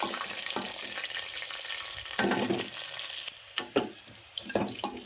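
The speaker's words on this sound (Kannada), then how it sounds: "ಬೆಳ್ಳುಳ್ಳಿ ಒಂದು ಸ್ವಲ್ಪ ಗೋಲ್ಡನ್ ಕಲರ್ ಬರೋ ತನಕ ಫ್ರೈ ಆಗುತ್ತೆ" Garlic frying in oil in a home kitchen pan until golden, with a steady low hiss of sizzle and a few sharper spatters and clinks scattered through, close and moderately loud, no talking.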